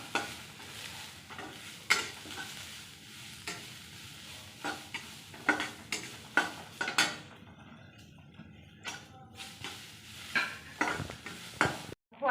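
Chopped carrots, beans and small tomatoes sizzling in a soup pot while being stirred, with repeated sharp scrapes and clanks of a utensil against the metal over a soft, steady frying hiss.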